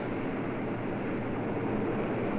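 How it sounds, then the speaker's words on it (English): Luftwaffe bombers and fighters flying in 1940 archival film: a steady, dense engine drone that does not change in loudness, heard on its own at low level. "hundreds of planes"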